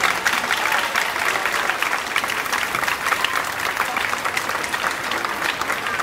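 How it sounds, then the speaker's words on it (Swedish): Audience applause at a Swedish cube exhibition event, steady, dense clapping from a sizeable crowd sustained throughout, close and fairly loud with no talk over it. "Så en applåd till Nina och hennes familj."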